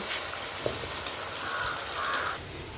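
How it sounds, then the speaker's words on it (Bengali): Mutton tripe frying with ginger-garlic paste in a pan, a loud continuous sizzle close by, with faint light clinks and a slight drop near the end. "এবার একটু ভালো করে ভেজে নিব"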